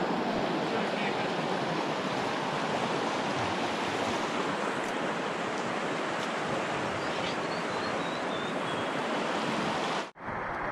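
Rushing river water while wading across the river in The Narrows at Zion National Park, a loud, continuous broadband roar that cuts off briefly near the end.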